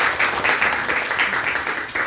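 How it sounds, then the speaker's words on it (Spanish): An audience after a talk gives a short, close burst of applause, many hands clapping briskly for about two seconds. "Le damos un aplauso porque..."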